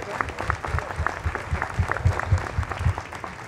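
Audience applause for a district councilman at a mayor's community night out, a brief burst of clapping from a modest crowd with a few louder nearby hands and some murmuring voices mixed in.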